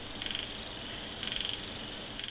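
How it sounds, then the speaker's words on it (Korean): Frogs croaking at dusk, bursts of rapid trilling calls repeating about once a second, moderately distant against a steady outdoor hiss, no talking. "날이 어둑해지니까 개구리 소리가 들리네요"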